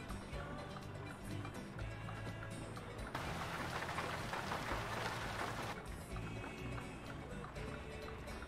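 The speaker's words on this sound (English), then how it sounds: "The rain." Rain pattering down in the trucking video game American Truck Simulator, a steady hiss over in-game engine drone, swelling louder for a few seconds in the middle before easing back.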